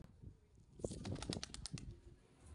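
Quick flutter of wings as a bird takes off, a burst of rapid flaps rising and fading, faint and close, with no talking.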